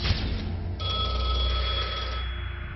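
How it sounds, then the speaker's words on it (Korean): A telephone bell rings continuously and loudly, a bright metallic trill sustained for a few seconds with no voices. "어둠 속에 울린 한 통의 전화."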